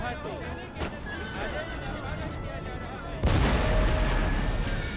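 Cannon fire booms out across an Empire: Total War battlefield. A sudden loud blast comes near the end, followed by a sustained rumble, while horses whinny and hooves clatter throughout beneath a busy battle din.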